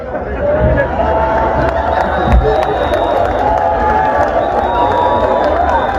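Crowd at an outdoor artistic evening gathering in Mouta Penda cheers and applauds steadily, a dense, continuous roar of voices and clapping holding at a constant level throughout, with speech mixed in.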